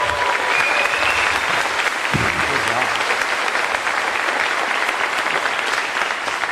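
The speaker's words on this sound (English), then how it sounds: "One more round of applause for them." A school audience at an intermediate school Veteran's Day program gives students a loud, sustained round of applause, a thick continuous clapping crowd sound with faint voices mixed in.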